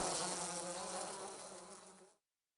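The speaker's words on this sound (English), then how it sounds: "The bees quickly departed." Bees buzz loudly in a dense swarm around a honey tree, a steady close drone that fades out quickly at the end as they depart.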